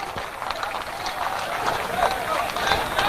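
Crowd at a party launch clapping to welcome the new party president, a dense patter of many hands swelling slightly toward the end, with voices mixed in.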